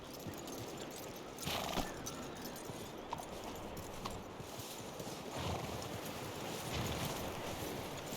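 Horse hooves clip-clop in a steady rhythm in the video game Red Dead Redemption 2, soft and fairly quiet, with a brief whinny and light wind in the background.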